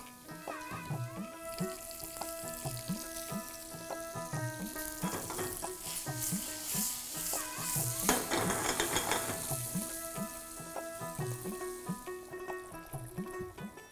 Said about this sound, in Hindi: अभी पनीर डालने के बाद गैस नहीं बंद करनी, चलाना है थोड़ा थोड़ा